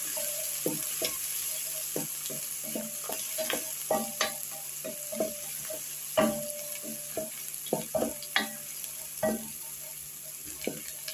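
Onion, ginger and garlic frying in a pan, a soft steady sizzle broken by repeated sharp scrapes and clicks of stirring against the pan, close and quiet with no talk.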